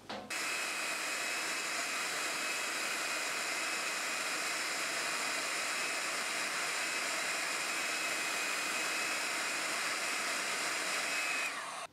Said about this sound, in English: The best way to apply heat to the sleeving is to use an hot air gun like this.